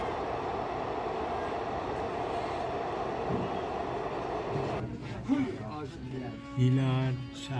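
A passenger train runs out of Banihal railway station in Kashmir with a steady, loud rumble and rattle of the wagons for several seconds. Toward the end the rumble eases and someone speaks over it.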